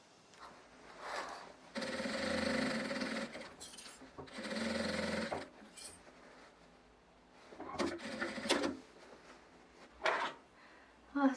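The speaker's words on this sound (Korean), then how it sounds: "나중에 뒤집어야 될 구멍이 필요하니까 조금 한 10cm 정도의 창구멍을 남기고 재봉해 줄게요." A sewing machine stitching a fabric basket: close, fairly quiet bursts of rapid mechanical whirring, each lasting a few seconds, separated by pauses with small handling clicks between runs.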